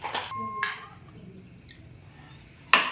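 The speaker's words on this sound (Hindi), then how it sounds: "तो बिल्कुल ज़रा सा यानी 1 टेबल स्पून पानी हमने इसमें डाला है।" A tablespoon of water poured onto jaggery in a kadai gives a few short, close splashes and drips near the start, then a sharp splash at the end.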